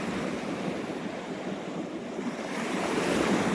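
Sea waves wash steadily along the shore at Galveston, a broad, continuous roar of surf mixed with wind buffeting the microphone, loud and close with no talk.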